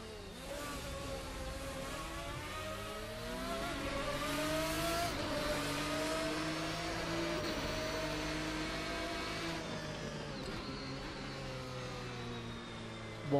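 A GT racing car engine in Assetto Corsa screams steadily at high revs, its pitch rising and falling through gear changes, loud and continuous with no talking.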